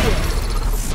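A gunshot rings out in the Counter-Strike shooter video game, a sharp, loud blast with a crackling, broadband tail that fills the brief moment.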